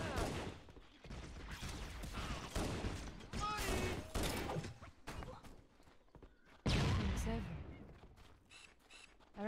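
Sniper rifle fire in the video game Halo: Combat Evolved: loud, dense bursts of shots and impacts, with quieter gaps between volleys in a busy game battle.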